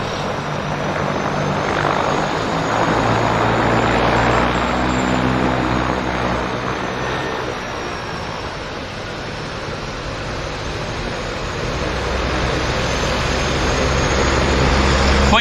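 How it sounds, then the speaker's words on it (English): A floatplane departs Vancouver Harbour, its propeller engine roaring loud and steady as it throttles up, dipping briefly midway before swelling again, with a faint voice in the background. "Just going to send this aircraft off."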